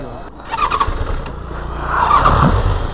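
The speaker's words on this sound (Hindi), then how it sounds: "भाजी बाइक ही नहीं स्टार्ट हो रही भाई" A motorcycle being cranked but failing to catch, with uneven bursts of starter and sputtering engine noise and a brief squeal, fairly close, as people talk nearby.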